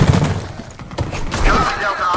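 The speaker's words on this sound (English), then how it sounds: "That's gunfire!" Gunfire crackles in the video game Deadlight, a burst of rapid distant shots and thuds mixed with other game noise.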